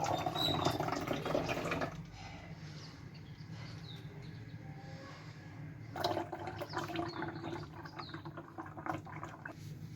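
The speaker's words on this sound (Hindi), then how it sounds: "ये देखिए बोतल भरने लगा हूँ" Tamarind and plum sharbat pours into a bottle with a steady liquid gush, then eases to a quieter trickle before a second pour picks up. It is close and moderately loud, with no talking.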